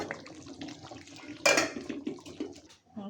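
Rice is swished and rinsed in a pot of water before cooking in a home kitchen, with close soft sloshing and trickling, a brief louder splash in the middle, and no talking.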